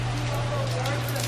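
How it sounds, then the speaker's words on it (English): Heavy rain pours at the Secrets Cap Cana resort, a constant close roar of broadband wash with a steady low hum beneath it, unbroken for the whole moment. "It's hard to see rain, but it's pouring."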